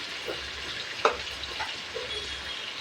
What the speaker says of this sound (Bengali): তো আমি সবসময় আগে আলুটা ভেজে নিই।